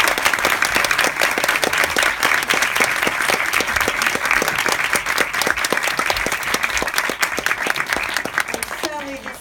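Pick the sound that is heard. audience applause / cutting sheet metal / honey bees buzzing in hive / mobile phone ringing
audience applause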